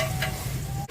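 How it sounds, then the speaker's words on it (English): Omena (small silver cyprinid fish) deep frying in hot oil, giving a steady close sizzle with a low bubbling hum throughout and a brief drop near the end. "So the oil is ready for deep frying, and so we are going to start, deep frying our omena."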